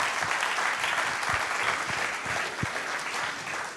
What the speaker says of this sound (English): So a big round of applause for all of our companies that pitched tonight.